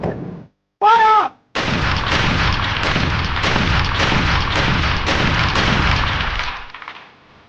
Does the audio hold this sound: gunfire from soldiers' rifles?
yes